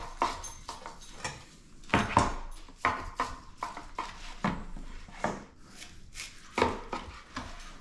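A knife cuts slices from smoked meat off a Lonestar Grillz IVS smoker with irregular scraping strokes and sharp knocks against a board, close and moderately loud.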